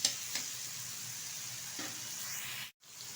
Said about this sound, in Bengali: বেগুনটা ভালোভাবে ভেজে নিচ্ছি।